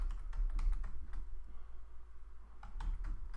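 Bursts of typing on a computer keyboard, with clustered key clicks near the start and end separated by a quieter stretch, close and fairly soft, with no talking.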